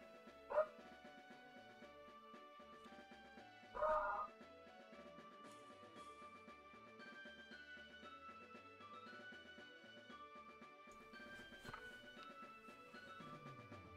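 Dog barks from the Pokemon Infinite Fusion video game, several short yips at about 0.5 s, 4 s and 12 s over constant game music.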